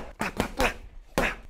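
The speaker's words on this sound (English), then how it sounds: "boxing punches in real life sound something like this" Four sharp, dull thuds of real boxing punches land in quick succession with short pauses between them, close and fairly loud, striking a body.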